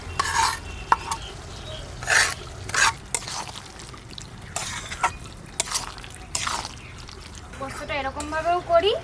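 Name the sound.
stirring fried onion into poppy seed paste, sizzling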